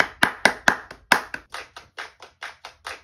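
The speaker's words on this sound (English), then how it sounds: "A lot of claps." Hand claps in the drum groove of a music track, a steady series of about a dozen crisp, evenly spaced claps, the first few sharp and loud and the later ones softer, with no talking.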